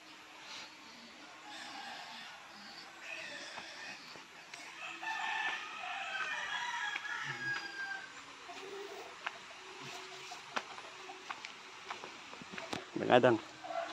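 Chickens on a farm near a large tree: a hen clucks and a rooster crows at moderate distance, short bursts over steady outdoor noise, with people talking throughout.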